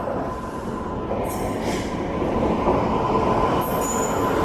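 The Kanyakumari–Bangalore Island Express rumbles past with a continuous heavy roar of wheels on rails and faint squeals, steady and loud throughout.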